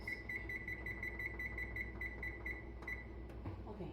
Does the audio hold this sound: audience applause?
no